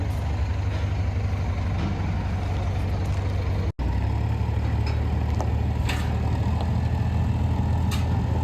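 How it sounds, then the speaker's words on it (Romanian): A tractor engine pushes a sailboat to its winter spot in a Greek boatyard. It gives a steady, close, droning rumble with faint clanks, and one brief cut near the middle. "Ne uităm cu emoții cum tractorul împinge barca spre locul ei de ernat."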